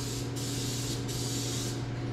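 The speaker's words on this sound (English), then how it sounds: "this right here, I simply just spray it on anything that I've currently taken off" Cano Weatherproof clear coating blasts from an aerosol can in a steady, loud hiss, broken by two brief pauses between bursts, sprayed onto removed steering gearbox parts from a GM/GMC Duramax truck, with no voices.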